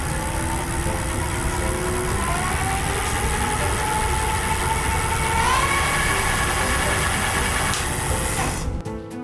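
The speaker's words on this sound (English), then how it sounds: "Test the throttle." An electric bike's hub motor on a Gosen Q3 e-bike spins under throttle, a steady whining hum with a faint rising tone, close and continuous before cutting off at the end.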